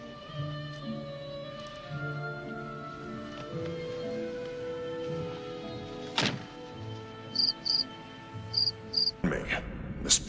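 Crickets chirp steadily through a quiet film scene, with a low hum and a few soft thumps and clicks in the background, ending in a brief loud noise.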